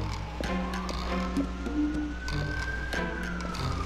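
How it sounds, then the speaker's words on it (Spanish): An ambulance siren in the 1999 PlayStation game Threads of Fate, a synthesized wailing tone rising slowly and falling back over game music with a steady beat, moderately quiet. "Uy, una ambulancia aquí."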